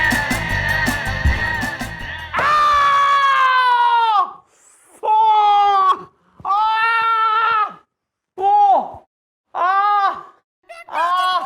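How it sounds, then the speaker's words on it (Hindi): A man in pain from a sprain cries out in a run of loud, drawn-out groans and wails, each held for about a second and broken by short silences, close to the listener. "सर क्यों चिल्ला रहे हैं?"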